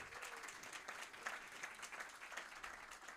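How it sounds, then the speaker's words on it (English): Faint applause from an event audience honouring volunteers, a steady wash of many hands clapping at a distance with no voices over it. "So give them a round of applause,"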